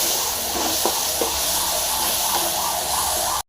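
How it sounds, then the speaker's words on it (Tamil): Tomatoes frying in a pan for a potato and horse gram curry give a steady, close hiss with faint crackles throughout, with no talking. "தக்காளி போட்டு நல்லா ஃப்ரை பண்ணிக்கலாம்."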